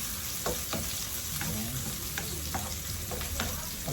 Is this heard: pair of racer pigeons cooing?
no